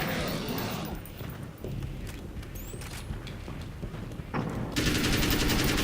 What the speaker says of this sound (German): Einfach mal ein ganzes Magazin rauffeuern.